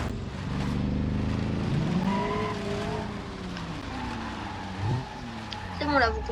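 A car in BeamNG.drive skids while overtaking on a bend, its engine droning as the tires squeal, ending in a couple of sharp impact thumps. Someone speaks over the action.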